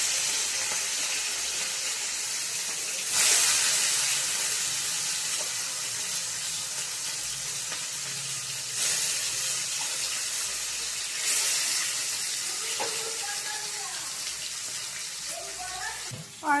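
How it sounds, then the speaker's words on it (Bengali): Fish fries in a hot pan with a steady, close sizzling hiss that swells in a few louder bursts as the oil spits, continuing without pause. "আর চলছে মাছ ভাজা।"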